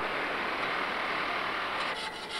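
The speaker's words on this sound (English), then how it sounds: "The castings then are cleaned, the proper term being chased, with files as well as chisels and hammers." Files rasp steadily against a cast metal sculpture being chased in a bronze foundry, a continuous loud scraping close by that eases slightly near the end, with no talking.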